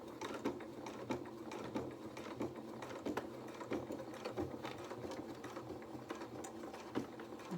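A sewing machine runs a line of stitches along the leg seams of a stuffed fabric rabbit, about a quarter inch from the edge, with a fast steady whir and faint mechanical ticking throughout.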